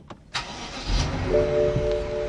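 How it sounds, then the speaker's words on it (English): A BMW F01 engine cranks and fires up in key fob emergency mode, with a sharp starter catch followed by a steady idle. It is close and fairly loud, with no talking. "So the point is to leave this key over here this way and then try to start the engine."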